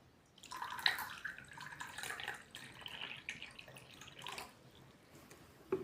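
Water is poured into a clay cup, a soft trickle and splash with small dripping sounds that swells, then tapers off, quiet and close, and no one speaks.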